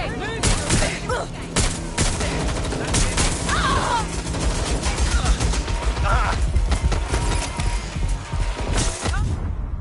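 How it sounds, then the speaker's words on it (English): Gunfire in the video game Watch Dogs: dense, continuous bursts of shots and crashing impacts fill the scene, loud and close, with voices shouting over the fighting. "They're shooting!"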